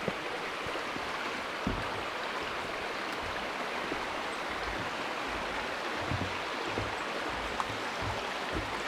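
A small river rushes beneath a little bridge near Boscastle, making a continuous broad wash of flowing water at steady volume, with a few faint bumps.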